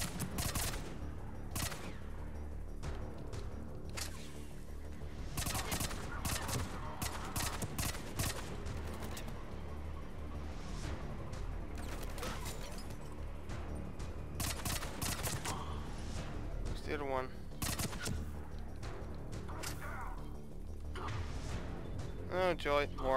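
Rapid bursts of gunfire from a weapon in the Mass Effect 3 video game, repeated volleys and crashing impacts running steadily throughout, loud and close, with a voice talking over parts of it.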